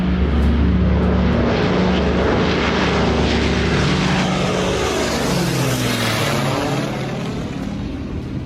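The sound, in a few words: Kit Fox Speedster Classic 4 light aircraft propeller engine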